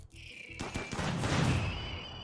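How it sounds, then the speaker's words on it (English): Slug turrets and autocannons firing in a RimWorld battle, a dense overlapping rattle of rapid shots building into a loud sustained barrage with a steady high whine running through it. "I still have my slugs and my auto cannons firing up"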